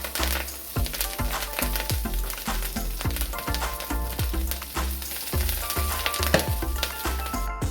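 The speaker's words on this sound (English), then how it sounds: "To the olive oil, we're going to add our kale now that the pan's nice and hot." Kale sizzles in hot olive oil in a pan, a loud, continuous close crackle dense with sharp pops throughout, no voices.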